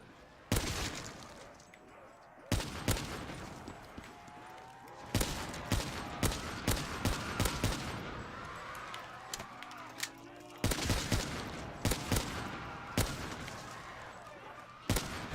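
Gunfire in Black Ops 3, including a sniper rifle, rings out as sharp, loud, separate shots and short bursts across the whole stretch, each with a ringing tail, over in-game background sound.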